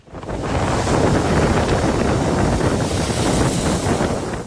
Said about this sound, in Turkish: Kuvvetli dalgalar yer yer kayaları parçaladı.